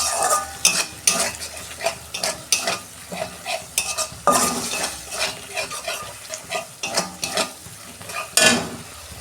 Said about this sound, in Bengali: এবার আমি মশলাটাকে ভালো করে কষাবো যতক্ষণ না তেল ছাড়ে।